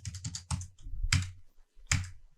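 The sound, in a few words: computer keyboard keys being pressed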